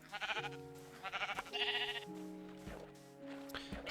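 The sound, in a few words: sheep bleating in Minecraft video game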